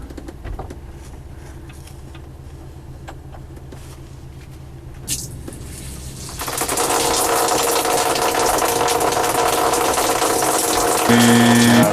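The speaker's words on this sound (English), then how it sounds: "This water pump." An RV water pump, running with the engine on and suffering low water pressure, starts up after a quiet stretch with a faint click, then settles into a loud, steady whirring hum that continues to the end.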